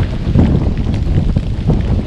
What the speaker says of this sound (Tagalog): Lakas pa rin ang hangin dito, hindi nawawala